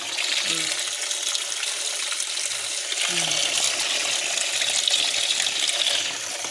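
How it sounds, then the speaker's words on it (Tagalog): Water pours steadily into a coconut shell in a continuous splashing hiss, close and fairly loud, with a brief low voice murmuring faintly underneath. "Ato na gi-continue butang og tubig ang bao."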